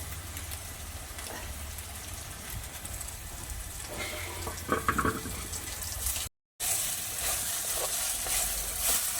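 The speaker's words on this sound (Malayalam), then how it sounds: "നമുക്ക് അരച്ച് വെച്ചിരിക്കുന്ന അരപ്പൊന്ന് ചെറുതായിട്ട് വഴറ്റിയെടുക്കാം" Ground masala paste for a tamarind fish curry sautéing in a pan makes a soft, continuous sizzle with a few stirring scrapes midway and a brief cut, quiet and close.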